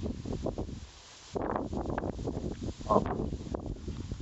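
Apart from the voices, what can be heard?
strong wind blowing over a rice field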